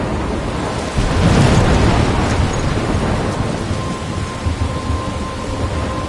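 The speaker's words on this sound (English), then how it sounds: "I'm trapped in a storm?" Thunderstorm in the Life is Strange video game: a steady wash of heavy rain with a loud rumbling thunder roll swelling in around the one-second mark, then sustained, with no talking.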